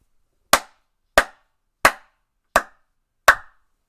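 Five slow, deliberate hand claps ring out alone at an even pace about two-thirds of a second apart, each one sharp and crisp with a short decay.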